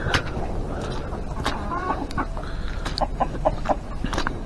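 Ducks on a snowy, slushy farmyard give scattered quacks and clucking calls among splashing and rustling noises, fairly close and continuous with no speech.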